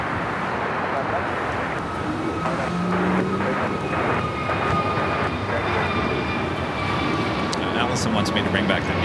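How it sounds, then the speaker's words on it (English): An American Airlines Airbus A321neo jet passes during plane spotting at Los Angeles airport, a loud steady roar with a speaking voice over it. "That flight heading to Reagan National, American Airlines Flight 1695 and the A321neo."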